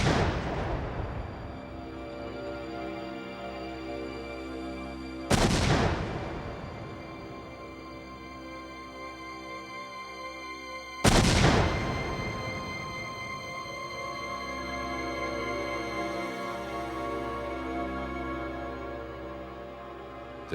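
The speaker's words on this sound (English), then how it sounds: "the LAPD performed a test explosion in the California desert" Test detonation of a pickup truck packed with ANFO and TNT in the California desert. Three heavy booms sound, each followed by a long rolling rumble and echo across open ground.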